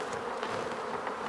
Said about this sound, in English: We'll have all the flying bees coming back to the main hive